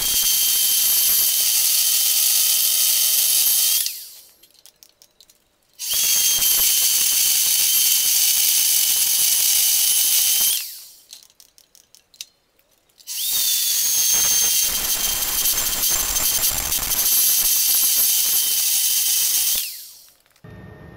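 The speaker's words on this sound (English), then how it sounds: "I'm just going to cut some chunks of 30mm and weld them" Welding steel stops onto a toe tip bucket, three long loud steady crackling and hissing runs separated by brief pauses.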